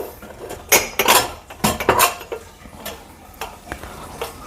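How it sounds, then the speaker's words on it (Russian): Washed dishes and mugs being put away in a home kitchen, with a series of sharp ceramic clinks and clatters close by, bunched in quick bursts, then a few lighter knocks. "теперь ставим помытую посуду"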